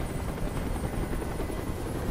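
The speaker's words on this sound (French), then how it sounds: "Fais dégager cet hélicoptère, maintenant" Steady, loud helicopter rotor noise from the video game Detroit: Become Human fills the scene, a continuous dense whirring thrum with no pauses.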